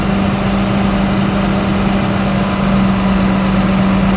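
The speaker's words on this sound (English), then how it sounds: "That's a nice little tractor." A small tractor's engine idles smoothly at a machinery dealer's yard, a steady, fairly loud drone with an even low hum and no break or voices.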